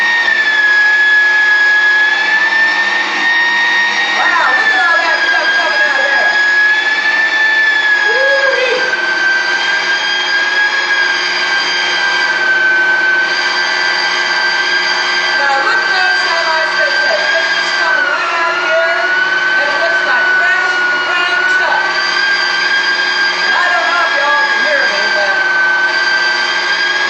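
An electric meat grinder works through cut beef strips in a long, unbroken high-pitched whir, loud and close, its tone shifting slightly as the meat feeds through.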